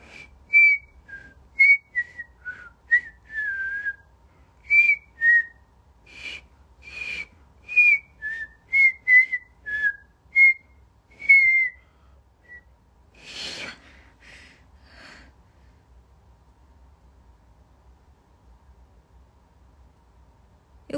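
A woman whistles a short tune in clear, phrased bursts with small gaps, close and fairly loud, then one breathy sound before the whistling stops and near-silence follows.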